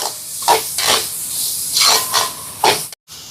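Carrots and tomatoes sauté in a pan for prawn noodles, giving loud close bursts of hissing sizzle that rise and fall several times before a brief cut.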